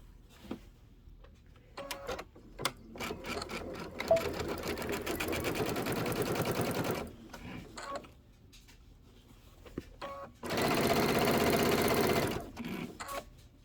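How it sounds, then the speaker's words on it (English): Sewing machine joining quilt binding strips for a small table topper, running in a long steady burst, then a pause with small clicks, then a second shorter burst, close and fairly loud. "I'm going to sew my binding pieces together."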